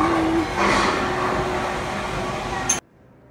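A train rumbles steadily at the Franklin Institute train station exhibit, a continuous mid-level rolling noise with a brief high squeal near the end before it cuts to near silence.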